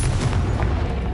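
A Confringo spell blast in Hogwarts Legacy lands as a loud, close, dull boom with rumbling low-end impact, filling the short moment on its own.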